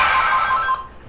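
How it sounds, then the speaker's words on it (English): A phone ringing, a bright steady electronic tone held loudly for under a second and then cut off abruptly, with no voices over it. "Phone call."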